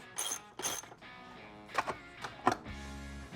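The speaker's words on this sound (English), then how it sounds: "this is where our socket wrench comes in." A socket wrench working on golf cart armrest hardware, a few quick bursts of ratcheting clicks and metallic taps up close and fairly faint, separated by short pauses, then a low hum at the end.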